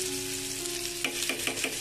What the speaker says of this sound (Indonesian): Kalau sudah panas langsung aja kita tumis bumbu yang sudah kita haluskan tadi.